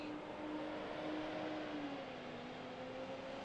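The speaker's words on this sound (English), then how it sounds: "That sound you hear is a fuel truck going by." A fuel truck passes on an airport apron, a steady broad engine rumble with a droning whine that holds fairly constant throughout, no voices.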